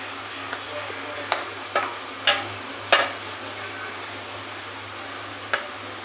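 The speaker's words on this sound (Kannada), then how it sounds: "ನೋಡಿ ಮಶ್ರೂಮ್ ಫ್ರೈ ಮಾಡ್ಕೊಳ್ತಾ ಇದ್ದೀನಿ ಇದಕ್ಕೆ ಈಗ ಸ್ವಲ್ಪ ಉಪ್ಪು ಎಲ್ಲ ಹಾಕೊಂಡು ಚೆನ್ನಾಗಿ ಫ್ರೈ ಮಾಡ್ಕೊಳ್ತೀನಿ" Mushrooms fry with salt in a pan, a steady close sizzle with several sharp scraping stir strokes and clinks spread across it, no voices.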